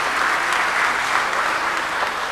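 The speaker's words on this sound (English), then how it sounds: "Please, let's clap for her as she moves to the podium." An audience at an annual conference applauds with a dense, even wash of clapping that holds steady throughout, fairly loud and without talk.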